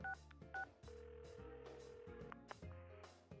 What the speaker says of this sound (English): I dialed Yosuke-kun's number.